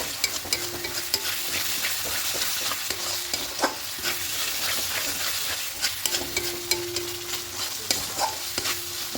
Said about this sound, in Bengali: এবার এখানে মটরশুঁটি দিয়ে দেবো বাটাসুরি দিয়ে খুব ভালো করে মিশিয়ে নেব